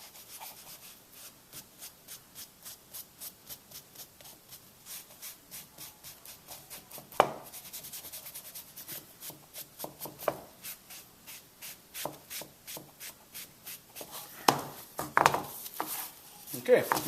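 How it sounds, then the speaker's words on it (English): Quiet, steady back-and-forth rubbing strokes of a cloth applying stain to a wooden coaster, rhythmic at first, then growing louder and more uneven. "Final step, I'll put some stain on the bottom."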